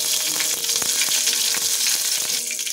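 Cumin seeds and bay leaf sizzle and crackle in hot oil at close range, a dense frying hiss with small pops, for a fasting-day potato dish.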